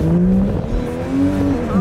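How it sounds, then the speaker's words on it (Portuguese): A Porsche 911 engine pulls hard, a loud close growl rising in pitch across gear changes with a brief dip between them, heard alone without talk. "olha o barulho da Porsche"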